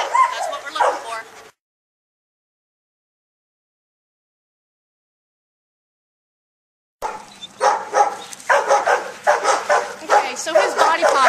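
Dog barks, yips and whimpers in quick bursts during a canine candidate test, close and fairly loud, with a long silent gap before a busier second stretch; people talk over the dog.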